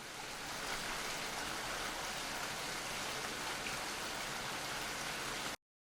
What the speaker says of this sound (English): going to play the rain real quick and see what it sounds like